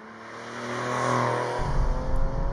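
A first-generation Porsche 996 Carrera with its 3.4-litre flat-six engine, a rising tone building steadily as it revs, then a gritty, rumbling drive note taking over partway through.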